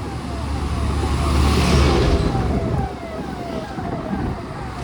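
Busy road traffic near Koshi Bridge, Nepal, hums and rumbles, with a faint, repeating ambulance siren wail coming through the noise in the distance.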